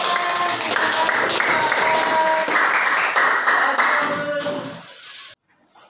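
Sustained classroom applause, steady and moderately loud for several seconds, then cutting off abruptly.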